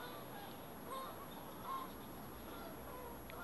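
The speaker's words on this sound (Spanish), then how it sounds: "Miren eso, miren a los gansos." Geese honking over a quiet marsh as they come down to land on water, two short calls standing out faintly against steady outdoor background noise.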